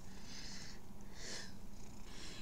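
A cat purrs softly up close, with slow rhythmic breathy pulses rising and falling in a quiet, steady cycle.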